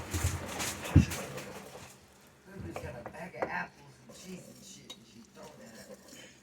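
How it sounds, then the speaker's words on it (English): Spoon stirring food in a pot of beef tips and rice, with a sharp metallic clink early on, then soft scraping and occasional knocks, quiet and close, with a dog and a voice faintly nearby. "I'm going to just stir this up in here"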